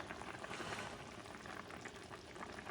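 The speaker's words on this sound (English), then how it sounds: "The liquids are boiling a little bit." Liquid for paella valenciana with chicken bubbles over high heat in a pan before the rice goes in, a faint, steady simmering fizz with soft popping and no voices.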